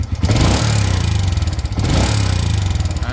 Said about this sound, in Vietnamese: Cái càng ga lên càng kêu này.